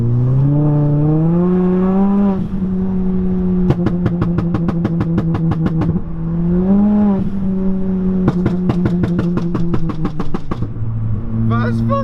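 A straight-piped Ford Fiesta ST engine on its first drive, loud and close, with long rising revs and rapid popping, crackling bursts between them.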